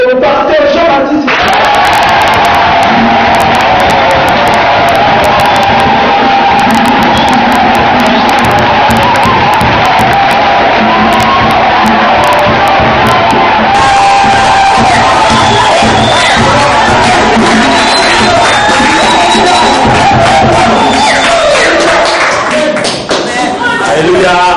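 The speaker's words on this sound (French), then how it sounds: "Et sous vos acclamations, s'il vous plaît, nous allons laisser la place au pasteur Jean-Baptiste." A church congregation cheers and acclaims, a loud crowd of voices with whoops, claps and thumps, mixed with talk and music throughout.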